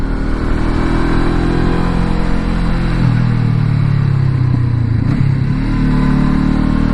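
Honda CB500X motorcycle carrying two riders and luggage up a steep Rijeka mountain road in first and second gear, the engine droning loudly and shifting pitch as it revs and changes gear, with no talking.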